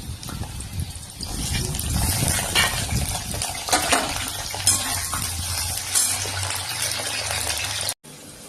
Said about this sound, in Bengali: এবার আমি একটু ডুমো ডুমো করে কেটে রাখা আলু দেবো।